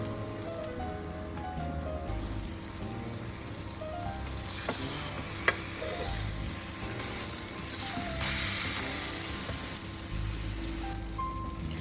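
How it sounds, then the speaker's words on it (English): Flour-dredged fish fillets frying in oil over medium heat, a steady close sizzle and crackle with occasional pops, and no talk. "Now it's time to fry the fish in oil over medium heat."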